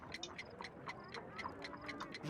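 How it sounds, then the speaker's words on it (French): A bomb timer in a Sherlock Holmes video game ticks in a fast, steady, faint rhythm, repeating evenly with a light background hum and no voice. "J'entends un tic-tac."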